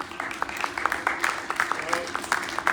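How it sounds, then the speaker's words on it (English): A crowd applauds the lava melter at a lava-melting demonstration in Reykjavik, Iceland, with scattered, irregular claps running steadily throughout while voices talk over the clapping. "Round of applause, please"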